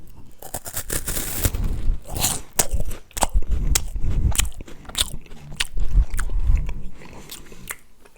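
Someone bites into a crispy Japanese snack close to the microphone, producing loud, repeated crackling crunches and chewing over several seconds.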